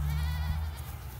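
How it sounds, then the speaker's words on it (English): Billy goat bleating nearby outdoors on a farm, one wavering drawn-out bleat over low rumbling background noise. "this is their billy goat just watching Ringo round up all of their girls"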